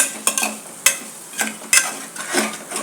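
Chicken sizzles in masala in a pan while a spoon stirs it, giving repeated scraping clinks at irregular intervals over a soft frying hiss, close and fairly loud, with no talk.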